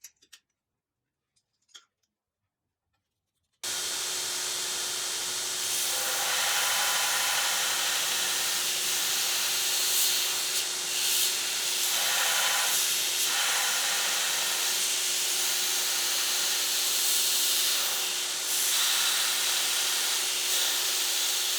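A belt grinder takes the corners off a batch of clamp bodies guided by a jig; after a short quiet start, a steady loud hissing whine runs continuously with a constant tone and slight swells as pieces are pressed against the belt.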